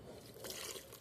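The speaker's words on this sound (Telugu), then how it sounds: "ఇప్పుడు వాటర్ పోసేస్తాము" Water is poured onto garden plants in a home garden, producing a soft, faint splashing trickle that swells briefly partway through.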